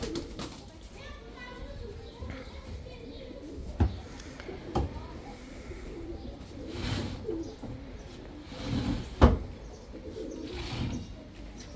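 Pigeons coo repeatedly inside a coop while people talk over them, with occasional sharp knocks and bumps breaking through.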